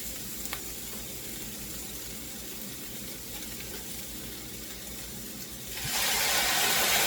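A pan sizzles steadily, then wine pours in and the hiss swells suddenly louder and stays loud to the end.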